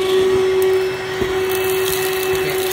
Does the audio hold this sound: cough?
no